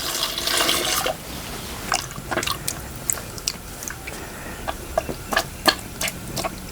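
Cold water is poured onto boiled tomatoes and they are squeezed by hand, starting with a brief splashing pour followed by wet, squelching squishes and scattered clicks at irregular intervals, close up, with no talking.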